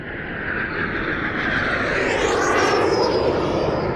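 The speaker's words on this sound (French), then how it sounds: "Des avions traversent le ciel." Airplanes crossing the sky as a sound effect: a loud, steady propeller-engine roar that swells and sweeps past overhead with a shifting whine, no voices over it.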